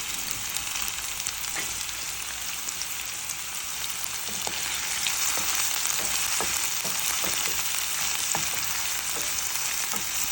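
Urad dal, chana dal, chillies and curry leaves fry with onion in a hot pan for a South Indian thali, giving a steady loud sizzle broken by stirring scrapes and small pops, with no voices.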